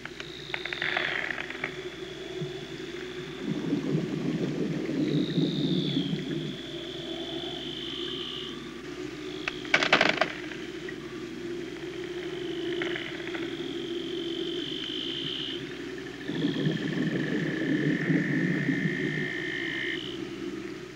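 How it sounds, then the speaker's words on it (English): Seal calls echo beneath Antarctic ice, heard as high drawn-out whistles and descending trills that repeat over a steady low rumble, with a few bursts of broader noise and creaking from the shifting ice around them. "The men hear the seals' distant voices, and in the layered caverns, the heaving and cracking of ice."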